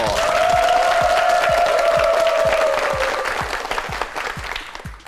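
Studio audience applause on a Korean TV quiz show, loud and sustained at first, then thinning out toward the end, with a sustained musical tone over it and soft rhythmic thumps beneath.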